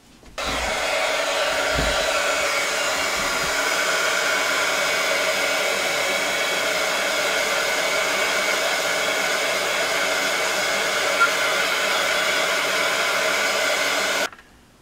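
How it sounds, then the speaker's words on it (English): Heat tool drying alcohol marker ink on vellum, switched on for about fourteen seconds of steady, loud blowing whir with a constant fan hiss, then cut off abruptly. "Let's use our heat tool and see if we can get this dried"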